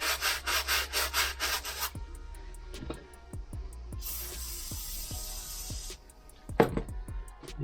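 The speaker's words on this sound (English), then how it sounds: "very fine sandpaper." A Toyota Celica brake cylinder is rubbed with very fine sandpaper: a quick run of rhythmic rasping strokes, then scattered lighter scrapes and taps, a sustained hiss partway through, and a final burst of scrubbing, all close up.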